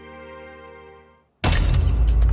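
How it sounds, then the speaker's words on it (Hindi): At a family party, glass suddenly shatters loudly after a sustained musical tone fades out, giving a dense, crashing burst close by with no speech. "कांच टूटना मतलब अपशकुन होता है।"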